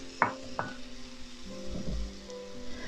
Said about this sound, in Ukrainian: І висипаємо усі яблука, які в нас є. Всі сюди. Гарно перемішуємо.